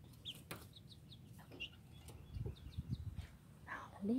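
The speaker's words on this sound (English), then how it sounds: "Aren't they cute? Little baby chicks." Baby chicks in a backyard chicken brooder, with ducks nearby, give a scatter of small high peeps and chirps throughout, soft and close, over low rustling and shuffling movement.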